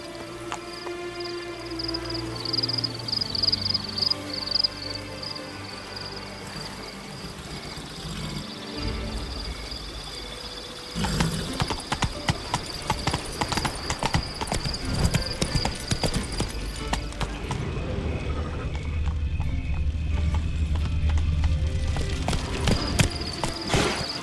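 A galloping horse in the video game The Witcher 3: Blood and Wine: rhythmic, quick hoofbeats that continue steadily at close range, layered over game music and ambience.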